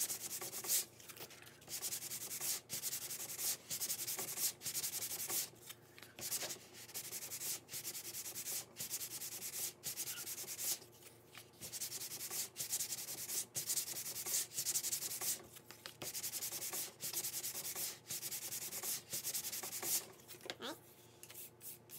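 Sandpaper rubs steadily across a balsa wood wing for a 12-inch hand-launched glider, making continuous close scratchy strokes with brief pauses, no talk over it.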